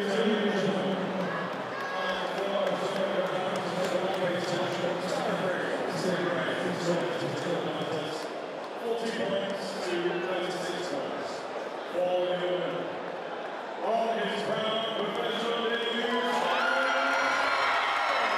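Boxing crowd at a fight night in Blackpool's Winter Gardens, a dense sustained roar of cheering and whooping voices that stays loud for the whole stretch with brief dips, shouts rising out of the din.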